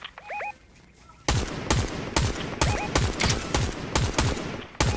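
Rapid gunfire in the video game Fortnite comes in bursts of sharp, loud shots with echoing tails. Game interface chimes come before and between the bursts.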